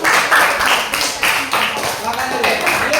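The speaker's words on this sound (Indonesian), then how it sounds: "tepuk tangan untuk kelompok 1" Rhythmic group clapping for a student group in a classroom, loud and close, in regular bursts with voices mixed in.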